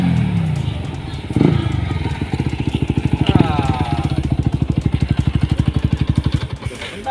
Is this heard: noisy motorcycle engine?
yes